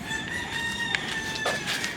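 A rooster crows near Sabang Beach in Baler, Aurora, a clear cock-a-doodle-doo call rising over a steady outdoor background hiss, with a second, shorter call close behind.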